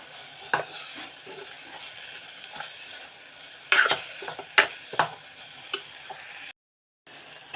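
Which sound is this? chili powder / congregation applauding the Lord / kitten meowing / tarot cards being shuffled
chili powder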